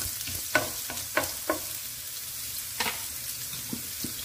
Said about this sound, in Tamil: அந்த உள்ளியை மிஞ்சியை ஆட் பண்ண போகிறோம்